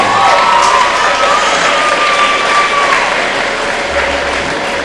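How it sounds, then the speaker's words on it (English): Steady, dense crowd applause fills a school gym at a basketball senior night honoring winter senior athletes and their parents, loud and continuous throughout with faint cheering mixed in. "Please, a big round of applause for their time, commitment, and"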